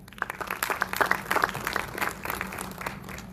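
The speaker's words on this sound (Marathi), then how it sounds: "त्यांच्यासाठी जोरदार टाळ्या व्हाव्या।" Hall audience at a felicitation ceremony claps steadily for an honoree, a dense patter of many hands at moderate distance, holding for the whole stretch with only faint crowd murmur and no talk over it.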